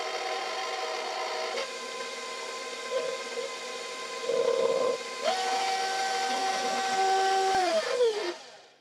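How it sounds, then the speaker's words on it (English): An electric mixer whirs steadily through sweet potato casserole, a droning hum with changing pitch as the beaters work, ending as it winds down and stops. "let's just turn it on again and mix it for another minute or so"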